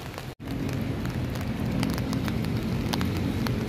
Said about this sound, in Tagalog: Yan, umuulan na naman mga tropa.